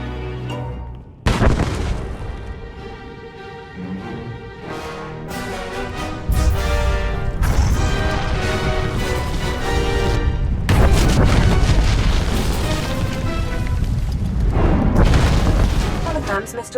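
Explosions and booming blasts in Star Wars: The Old Republic on Corellia, with an onset slam about a second in and a louder, dense roar of rumbling detonations from about six seconds on, mixed with game music and voices.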